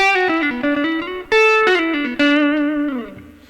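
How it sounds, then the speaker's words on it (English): Clean electric guitar notes from the neck pickup of a Yamaha Pacifica 112J, played alone, warm and round, a quick run of picked notes then sustained chords ringing out with light reverb. "So that's the neck pickup there,"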